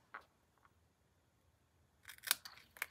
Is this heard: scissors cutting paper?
yes